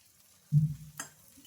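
Oil goes onto a dosa cooking on a hot pan, a sudden low sputtering burst that fades into a quieter sizzle, followed by a short sharp crackle.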